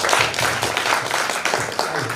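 Audience at a monthly discussion forum on ageing claps together in a continuous, fairly loud burst of applause, dense and even throughout.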